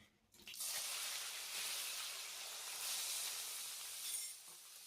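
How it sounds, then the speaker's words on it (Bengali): Sliced mushrooms, boiled first, hit hot oil in a pan and set off a loud, steady sizzle of frying that rises suddenly after a quiet start and holds on with no talk over it. "এখন এটা ভেজে নেব। তেলে দিয়ে দিচ্ছি।"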